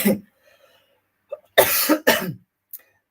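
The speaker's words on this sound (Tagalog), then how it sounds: "Inuubo ako." A person coughs hard several times, a short catch and then a few loud, harsh bursts in quick succession, close to the microphone, with a faint cough or throat-clear trailing at the end.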